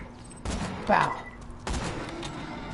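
Gunfire in the video game Borderlands 2, two heavy bursts of shots with a short tonal effect between them, mixed with game sounds.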